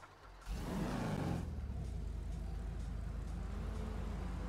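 A car engine runs steadily after starting, a low rumble that swells briefly and then settles into an even idle, close by with no talking.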